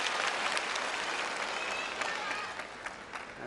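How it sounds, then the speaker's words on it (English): A packed arena crowd at the ITTF World Cup in Macao roars and applauds after a table tennis point, a dense, sustained wash of clapping and cheering that fades slightly toward the end. "Greeted by a roar from the crowd."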